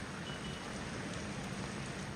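Steady, dense monsoon downpour of heavy rain in Vasai-Virar, a continuous broadband hiss of drops pattering on surfaces with no voices.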